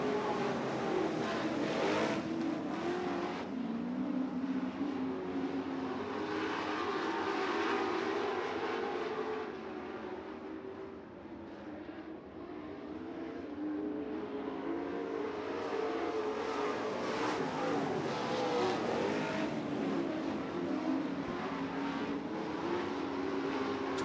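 Dirt track race cars roaring through a heat race at the Dirt Devil Grand Nationals, a dense, continuous engine drone that swells, dips briefly and swells again as the pack circles the track.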